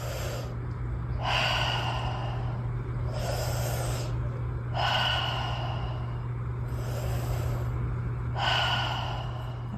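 Connected breathwork at a quickened pace: loud, close breaths cycle in a steady rhythm, about five or six audible breath cycles of sharp inhales and airy exhales over a faint low hum, with no talking.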